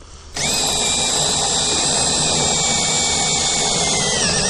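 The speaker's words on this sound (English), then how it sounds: "It's already drilled a hole in the floor." A power drill starts abruptly and runs at a steady high whine, boring a hole through a vehicle floor during an inverter install, loud and close with no talk.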